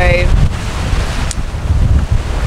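Wind rushes past a sailboat running at about six knots in 13 to 15 knots of breeze just off the beam, a loud, buffeting roar over the microphone with rushing water beneath.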